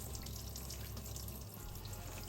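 Water pours steadily onto a houseplant, soaking the soil in a continuous close wash of flowing liquid with no voices.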